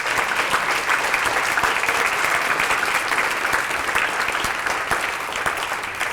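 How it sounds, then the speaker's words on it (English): Audience at a human rights awards ceremony gives a round of applause, a thick continuous wash of clapping from a large crowd, steady and loud throughout, easing slightly near the end. "Let's give a round of applause for our 8 heroes."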